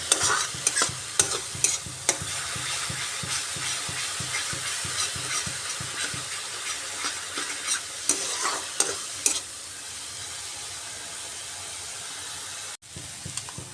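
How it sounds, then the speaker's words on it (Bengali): Onions sautéed in a pan, a brisk, steady run of close spatula scrapes over a continuous frying sizzle, dense for about nine seconds before the stirring stops and only a soft hiss remains. "পেঁয়াজগুলো ভালোভাবে কষিয়ে নিচ্ছে যাতে পেঁয়াজের থেকে জলটা সম্পূর্ণরূপে শুকিয়ে যায়"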